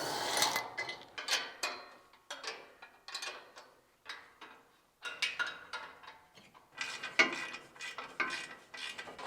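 Ratchet wrench unbolting bumper bolts on a 3rd-gen Toyota Tacoma, a string of quick, close clicking bursts in short runs with brief pauses between them.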